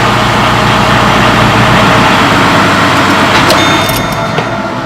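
A loud, steady mechanical hum and drone from a faulty car wheel bearing, constant throughout, with a faint whine and a few light clicks near the end.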